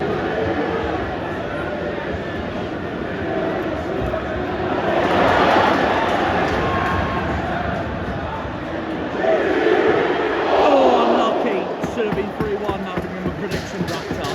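A home football crowd at Craven Cottage, Fulham's ground, cheers and chants after a Fulham goal against Watford in a Premier League match. The roar is broad and swells twice, with crowd babble underneath throughout.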